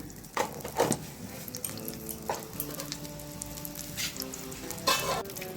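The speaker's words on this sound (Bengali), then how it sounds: "তেলটা গরম হয়ে গেছে, দিয়ে দিচ্ছি কালো জিরের ফোড়ন।" Black cumin seeds dropped into hot white cooking oil for a Bengali begun bahar, crackling and sizzling steadily up close, with sharper bursts of spitting and a few light clinks of a utensil against the pan.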